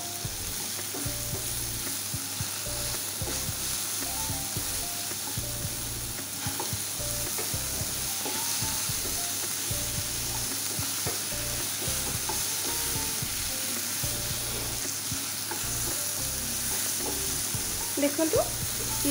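Fish, tomatoes and green chillies fry in a pan as village-style Odia fish curry is cooked. A steady close sizzle runs throughout, with faint stirring scrapes and little talk.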